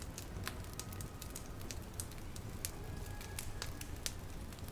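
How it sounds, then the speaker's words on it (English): A fire hums steadily with a dense bed of soft crackles and occasional sharper pops, even and fairly faint throughout, with no voices. "listening to the fire hum and crackle away."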